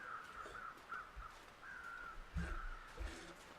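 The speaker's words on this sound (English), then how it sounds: "So I hear birds everywhere." Crows caw repeatedly in the snowy wilderness of the survival video game The Long Dark, several harsh calls spaced across a few seconds over quiet ambient wind, with a couple of soft low thumps.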